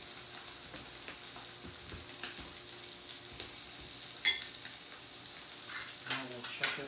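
A thin piece of steak sizzling in a hot pan for Steak Diane, a steady bright hiss throughout with occasional louder pops and spatters.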